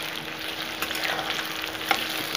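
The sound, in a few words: onions frying golden for Bihari chicken curry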